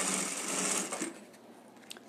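Sewing machine with a half-centimetre presser foot running a seam through fabric, a steady close whir that runs loud and continuous before easing slightly toward the end, heard alone without talk.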